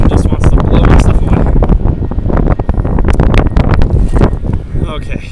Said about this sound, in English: the wind just wants to blow my stuff